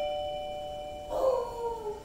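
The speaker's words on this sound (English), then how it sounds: "as you heard the chime, that's the one that I just put here in the room" A JSiEEM touch digital doorbell chimes indoors with clear, sustained electronic tones, and partway through a dog joins in with a drawn-out howling bark close by.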